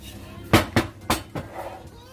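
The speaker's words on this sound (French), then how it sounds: "On récupère le moule." A pie mould being picked up and handled while making a spiced meat tourte, giving a few sharp metallic knocks and clatters in quick succession, fairly close and moderately loud, followed by quieter handling.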